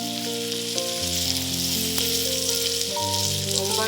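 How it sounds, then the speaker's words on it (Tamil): Ginger and garlic sizzle steadily in a hot pan, a close, continuous frying hiss that runs under background music with sustained notes. "இப்போ வந்து இஞ்சி பூண்டு போட்டுக்கலாம். நல்லா வதக்குவோம்."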